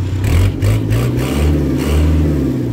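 The engine of a 2005 Caterpillar 416D backhoe loader revs loud and close, a rough mid-pitched roar that rises and falls in surges with a light mechanical clatter.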